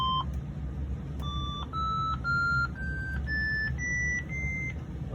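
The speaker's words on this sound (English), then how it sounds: "here's the very exciting Gottlieb sound test" Gottlieb System 3 pinball MPU sound test on a StarGate machine, a series of about nine short electronic beeps, each a little higher in pitch than the one before, heard alone and fairly quiet.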